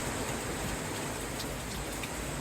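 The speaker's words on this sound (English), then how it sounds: "it really is starting to rain like buggery now" Heavy rain falling outdoors, a steady dense hiss of drops that holds evenly throughout with no other sounds.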